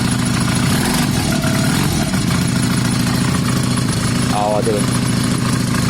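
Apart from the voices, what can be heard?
bobber motorcycle twin-cylinder engine started and running without choke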